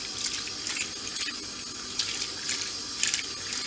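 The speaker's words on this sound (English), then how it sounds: "rinse all the dirt off." Running water from a tap streams steadily over a telescope mirror being rinsed clean of dirt, a close hissing splash with small shifts as the flow hits the glass.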